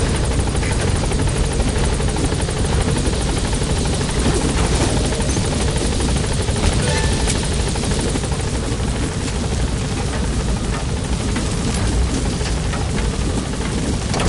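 A helicopter in the video game Metal Gear Solid V roars loud and steady throughout as it comes in to land, its dense rotor and engine noise filling the scene without letup.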